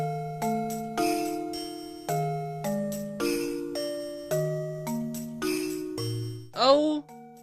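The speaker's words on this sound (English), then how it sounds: "it's Jingle Bells!" Jingle Bells plays as chiming, bell-like synthesized video game music from a Mario & Luigi game, a clean melody of struck notes with decaying tails, ending in a brief rising flourish.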